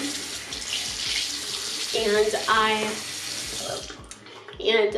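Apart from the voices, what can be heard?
water running from a sink tap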